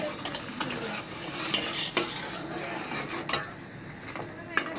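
A spoon stirs and mixes milk powder with gulab jamun powder in a container, making soft, close scraping and rubbing sounds with occasional light clinks.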